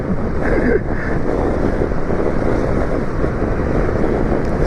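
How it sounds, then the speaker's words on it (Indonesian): Strong wind buffeting the microphone while riding a Jupiter MX 135 motorcycle on a solo tour, a loud continuous low roar with gusty rumble throughout and no talking. "ini sih anginnya kenceng banget"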